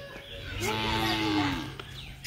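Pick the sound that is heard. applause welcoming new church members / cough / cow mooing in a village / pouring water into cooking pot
cow mooing in a village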